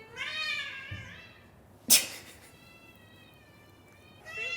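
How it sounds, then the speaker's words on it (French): A cat outside meows to be let in, with two drawn-out, wavering cries close by separated by a single sharp knock, then the start of another meow. "On a un chat qui veut rentrer."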